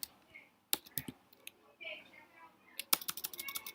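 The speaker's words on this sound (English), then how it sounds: "I'm actually going to type in Kublai Khan" Typing on a computer keyboard, sparse irregular clicks and clatters at close range. A short pause sits in the middle before a quicker burst of keystrokes at the end.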